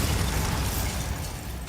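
A Bombarda spell explosion in the video game Hogwarts Legacy, heard as a dense, sustained burst of blast and rumble that stays loud throughout and tapers slightly toward the end.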